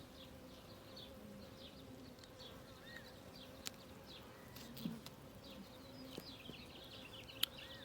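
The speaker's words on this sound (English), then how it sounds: "You've got a bee under your thumb." Honey bees buzzing softly around an open hive during a package beehive inspection, a steady faint drone with occasional clicks and small knocks from handling the frames, and no one speaking.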